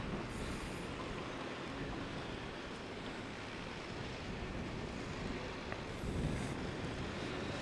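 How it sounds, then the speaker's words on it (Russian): Strong wind roars steadily at a construction site with tall cranes and a deep excavation pit, a broad continuous rush with a slightly louder gust near the end and no talking. "Сейчас сильный ветер, поэтому краны в основном стоят."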